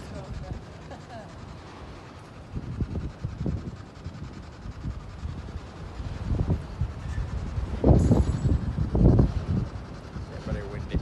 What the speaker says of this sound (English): Yeah, very windy.